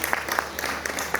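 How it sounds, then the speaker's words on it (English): A short burst of audience applause for panelists at a World Travel Expo 2022 press conference, with distinct, fairly close claps rising over a steady clapping wash. "a warm round of applause for them"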